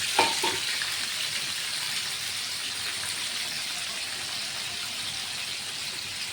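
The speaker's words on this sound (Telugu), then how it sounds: "ఇప్పుడు టమాటో, మిర్చి అండ్ ఆనియన్ మూడు కూడా వేసుకోవాలి ఆయిల్లో" Tomato, green chili and onion frying in hot oil for paneer butter masala: a steady, even sizzle throughout, with a brief louder crackle at the start as the vegetables hit the oil, no talking.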